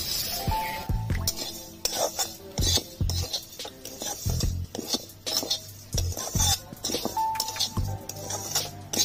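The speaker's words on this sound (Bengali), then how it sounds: "এখানে আমি 1 বাটি সিমুই নিয়েছি, অল্প করে ভেজে নেব" Vermicelli being stirred in ghee in a pan: repeated scraping and clinking of a utensil against metal, with a faint sizzle underneath.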